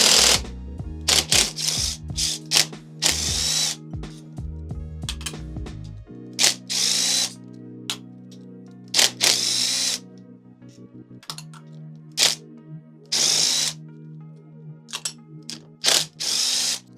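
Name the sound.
impact driver removing 8mm clutch cover bolts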